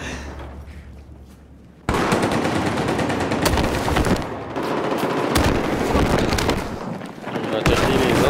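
Rapid gunfire crackles in a video game shootout, with dense bursts of automatic shots and sharp single reports after a quiet opening, loud and continuous over game noise.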